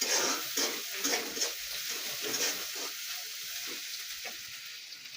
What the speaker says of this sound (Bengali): পেঁয়াজটা ভাজি করলে তাড়াতাড়ি পেঁয়াজটা নরম হয়